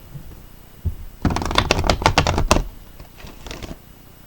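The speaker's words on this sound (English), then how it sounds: "go ahead and shuffle up your cards" A deck of tarot cards being shuffled close by in a quick riffle of crisp slaps and flutters, then a few softer shuffles as it trails off.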